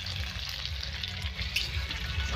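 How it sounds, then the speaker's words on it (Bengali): Koi fish fry in hot oil for a spicy Bengali koi curry, a soft, continuous crackling sizzle with a faint bubbling underneath, steady and unbroken throughout. "তো মাছগুলো ভাজা হয়ে গেছে,"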